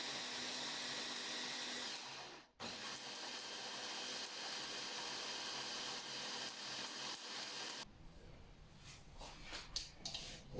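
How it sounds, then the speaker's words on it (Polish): A blender whirs steadily as it purées raspberries for fit raspberry cupcakes. The motor stops briefly, runs on, then cuts out, leaving quieter clatter. "Maliny przekładamy do blendera"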